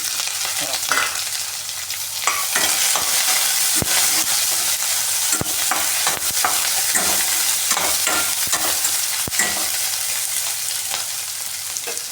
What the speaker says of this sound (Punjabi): ਪਿਆਜ਼ ਨੂੰ ਅਸੀਂ ਚੰਗੀ ਤਰ੍ਹਾਂ ਭੁੰਨਾਂਗੇ ਪਿਆਜ਼ ਨੂੰ ਉਦੋਂ ਤੱਕ ਭੁੰਨਣਾ ਜਦੋਂ ਤੱਕ ਇਹ ਬਰਾਊਨ ਨਹੀਂ ਹੋ ਜਾਂਦਾ